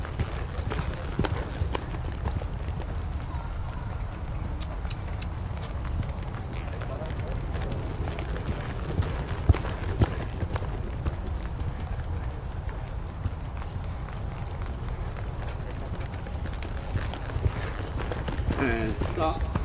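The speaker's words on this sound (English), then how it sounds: "Now we're going to turn, up, and canter." A nervous young colt canters in a training session, its hoofbeats drumming steadily over a rough outdoor background while a trainer talks throughout.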